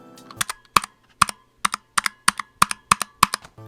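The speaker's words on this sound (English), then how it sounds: "the switches just sound very hollow due to the hollowness of the board" Crisp, clicky keystrokes on a Razer Huntsman Mini mechanical keyboard with clicky purple switches, sounding hollow and pingy, typed in an uneven rhythm of quick taps, close and clear with nothing else audible.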